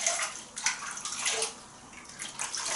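Shaving soap lather rinsed off under running water, with close, hissing splashes and short pulses of flow from a tap.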